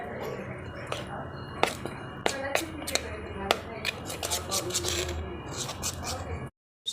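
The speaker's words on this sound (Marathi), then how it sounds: "त्यामध्ये मी पाणी घालून थोडंसं याला छान फेटून घेणार आहे।" Gram flour being whisked with water in a small bowl, giving repeated quick clicks and scrapes of a utensil against the bowl at close range over a steady background hum, stopping briefly near the end.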